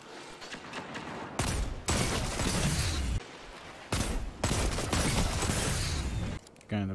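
Hand cannon fire in the Destiny 2 video game comes in dense, loud bursts of shots and impacts, alternating with brief lulls of game ambience.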